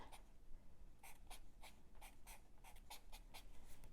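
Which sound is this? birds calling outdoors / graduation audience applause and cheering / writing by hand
writing by hand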